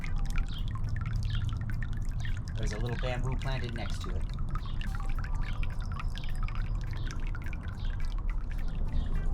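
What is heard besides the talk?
water dripping from bamboo spout of granite water feature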